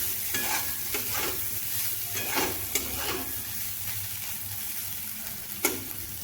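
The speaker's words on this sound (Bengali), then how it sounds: "ঢাকা খুলে আমি এইভাবে ভেজে নিচ্ছি" Sliced bitter gourd (karela) fries uncovered in a pan with a soft, steady sizzle, while occasional stirring scrapes and clinks sound close by, fairly quiet and with no talk.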